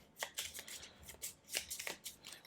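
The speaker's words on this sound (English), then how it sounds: "just give it a quick shuffle" A deck of playing cards for the Robinson Crusoe: Poachers board game gets a quick riffle shuffle, a close burst of crisp rapid papery flutters and snaps lasting a couple of seconds.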